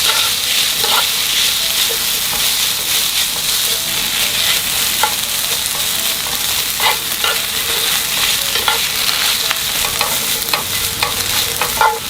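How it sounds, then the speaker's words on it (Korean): Fish cake stir-fried in a pan over medium heat gives a steady, close sizzle and crackle, with occasional scrapes and stirring clicks from the spatula running through the whole stretch and no talking. "타지 않도록 불은 중간 불에서 이렇게 볶아주세요."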